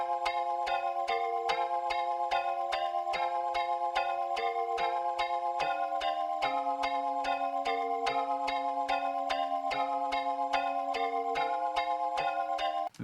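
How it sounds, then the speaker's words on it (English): Soft synth pad from Analog Lab plays a simple, repeating chord progression in an even pulsing rhythm, quiet and clean with no voices for about thirteen seconds. "So the first sound I used was Analog Lab, and it sounds like this."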